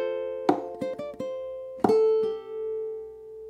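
A ukulele plays the second bar of a riff in F, a few plucked notes and strummed chords ringing alone, the last chord sustaining and fading.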